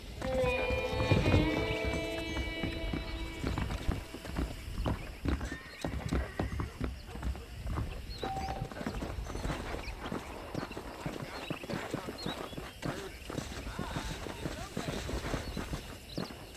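Horse hooves clip-clop in a steady walking rhythm in Red Dead Redemption, with a whinny near the start and someone talking over the hoofbeats throughout.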